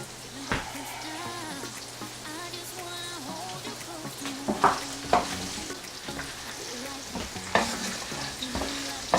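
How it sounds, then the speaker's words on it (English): Peppers sizzle and crackle in a pan with sausages on low heat, close and fairly quiet, with spoon scrapes and knocks from stirring; no one speaks. "why don't we go ahead and throw this in the pan, since you know, it's on low and it's cooking"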